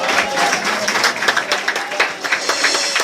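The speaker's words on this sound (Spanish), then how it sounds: "Fuerte aplausos a nuestro Dios, hermanos." A church congregation claps during a worship service in Carrizal, San Andrés, Lempira, a steady, dense round of hand claps with some crowd noise, continuing throughout and fairly loud.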